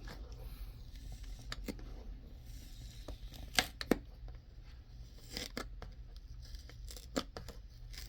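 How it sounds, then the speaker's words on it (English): Price stickers are peeled off toy packaging, giving faint scratchy tearing sounds in short bursts against a quiet low hum. "Taking these stickers off is a pain in the ass, I'll tell you that."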